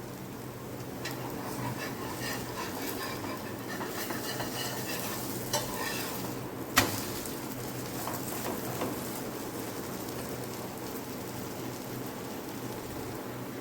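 Vegetable pudla batter made with millet flour cooks on a pan over a low flame, a continuous soft sizzle and frying hiss with a faint utensil clink midway, steady and close, no talking.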